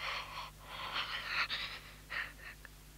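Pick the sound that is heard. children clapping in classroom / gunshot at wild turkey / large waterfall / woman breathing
woman breathing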